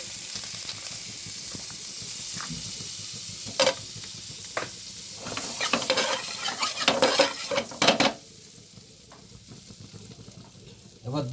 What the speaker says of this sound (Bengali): এবার দেবো এতে আমি বাটার